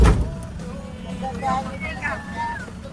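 A car engine idles again after cooling down, a low steady rumble running under a person's talk.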